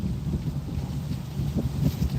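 Gusty wind blowing outdoors at a historic fort site in Ogden, Utah, a steady low rumbling buffet on the microphone with no voices.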